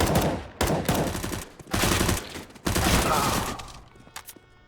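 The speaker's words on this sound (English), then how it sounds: "Bit of damage being done by these pistols" Pistol fire in Counter-Strike on the map Train during a match, with loud rapid shots in dense bursts separated by brief gaps, close and dominant, then trailing off into quieter scattered noise.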